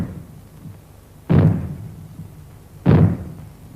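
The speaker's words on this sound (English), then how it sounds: "When fallout is expected, you will hear 3 bangs in short succession," Two heavy booming bangs, evenly spaced and fairly loud, sound as a fallout warning signal, each decaying quickly into quiet.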